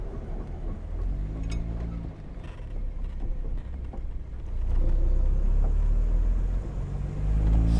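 A Jaguar XK-120 sports car driving downhill, its engine a steady low rumble heard from inside, rising into a louder deeper drone partway through with a brief engine note swelling near the end.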